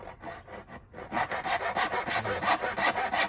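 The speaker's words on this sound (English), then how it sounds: "So even with the resistance that the saw started having earlier, with the WD-40 really helped a lot." A hand saw cuts through a wooden baseboard lubricated with WD-40, starting with quieter scraping and then settling into steady, rhythmic rasping strokes, close and fairly loud, about two strokes per second with no talking.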